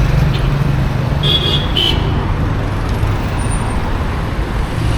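Road traffic circling a giant roundabout in Cairo, Egypt: a continuous rumble of passing cars and buses with a few short horn toots.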